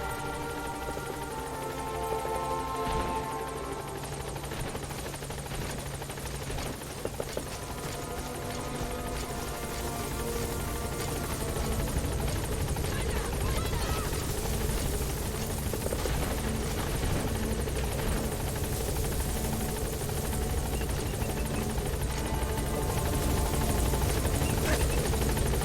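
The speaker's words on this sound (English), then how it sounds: "Support helicopter has" A support helicopter in the video game Metal Gear Solid V arrives, its steady rotor thrum and engine drone running continuously and building slightly louder as it closes in, with faint game voices at times.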